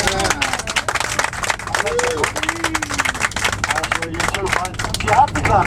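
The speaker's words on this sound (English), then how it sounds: "You have to clap, otherwise I wouldn't keep going." An audience on a holiday in Ireland claps steadily and fairly close, with a voice singing or talking over the clapping throughout.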